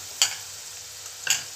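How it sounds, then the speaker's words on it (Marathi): A spoon stirs turmeric into hot oil tempering for poha chivda, giving two short scraping strokes against the pan about a second apart over a faint steady sizzle. "व्यवस्थित मिक्स करून घेऊया हळद जी आहे ती आपल्या फोडणीमध्ये."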